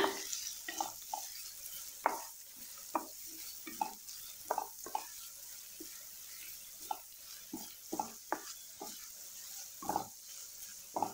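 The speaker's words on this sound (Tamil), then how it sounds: "இப்போது நம்ம வெங்காயத்தை சேர்த்துடலாம். சேர்த்துட்டு நல்லா வதக்கி விட்டுருங்க." Onions being sautéed in a pan for a mushroom curry, with a steady soft sizzle under repeated scraping and stirring strokes, close and fairly quiet.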